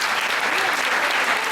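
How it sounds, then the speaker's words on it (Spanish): Loud, dense applause from a conference audience after a panel talk fills the whole moment, a continuous roar of many hands, with voices faintly mixed in underneath. "El aplauso, entonces, y el agradecimiento para los doctores Alejandra Petrella y Carlos Regazzoni."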